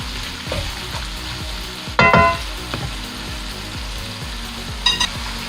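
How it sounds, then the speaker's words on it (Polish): Steady sizzling of onion frying in a pan, with rhythmic scraping and stirring and a few sharp clinks of a utensil. "Cały czas smażę tą cebulę."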